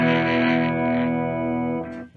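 Electric guitar, a Gibson SG, run through a Bolero V2 MOSFET fuzz pedal, rings out a thick, buzzy sustained chord close and loud, fading at the end.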